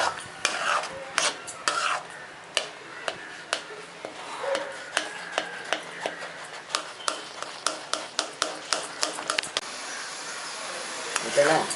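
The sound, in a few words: stirring amla (gooseberry) thokku in a pan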